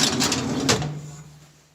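A metal drawer in the stand of a Grizzly lathe slides with a short scraping rattle, then a faint ringing hum fades out, all close by and with no talking.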